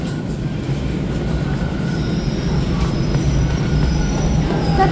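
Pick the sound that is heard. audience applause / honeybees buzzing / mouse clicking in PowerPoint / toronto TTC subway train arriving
toronto TTC subway train arriving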